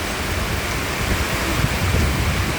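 Steady, dense rainfall roars without a break, a broad wash of noise with low rumbling underneath, close and continuous throughout.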